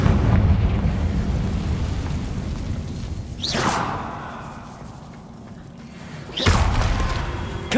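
Confringo spell blasts in Hogwarts Legacy, booming whooshing explosions that hit hard then rumble off, with two more sharp bursts mid-clip and near the end over continuous game noise.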